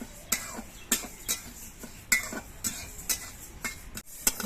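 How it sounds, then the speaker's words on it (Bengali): Dry mung lentils are scraped and stirred constantly in a pan while dry-roasting, giving repeated sharp scratching strokes at an irregular rhythm, close and fairly quiet. "মুগ ডালটা ভাজার সময় অনবরত নাড়তে হবে"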